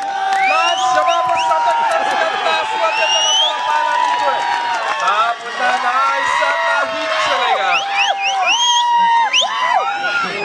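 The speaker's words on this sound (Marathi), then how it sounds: "या बाबतीत जबरदस्त एकदा जोरदार टाळ्या झाल्या पाहिजे दोन्ही संघांसाठी" Lively crowd at a kabaddi match applauding and cheering, with loud whoops and whistles rising over continuous clapping and shouting throughout, busy and close.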